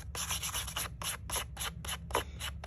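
Rhythmic scraping strokes rub gilded leafing off the edge of a pottery piece, about a dozen short, close, quiet rasping passes in quick succession with a low background hum.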